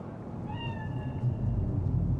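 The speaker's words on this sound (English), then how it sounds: "Chill, just a cat." A cat meows once in the video game Cyberpunk 2077, a single drawn-out, fairly close call over a low ambient rumble.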